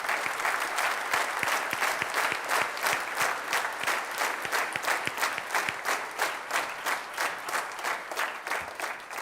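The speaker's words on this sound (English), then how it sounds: "Let's give them one more round of applause." A school auditorium audience applauds middle school all-state band students, many hands clapping in a full, continuous burst that holds steady before tapering slightly, with no talking over it.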